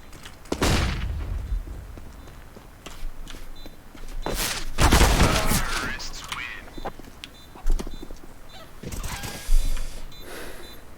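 A flashbang grenade thrown in Counter-Strike: Global Offensive Wingman play, with sharp bursts and a loud bang-like burst mid-clip among scattered game noises and clicks.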